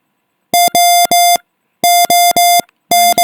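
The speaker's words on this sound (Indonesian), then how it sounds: "Lampu merahnya menyala dan buzzernya berbunyi berulang kali secara cepat" An electronic buzzer on an IoT project beeps in quick bursts of sharp, loud, evenly pitched tones, two groups of three separated by a short silence, with no talking.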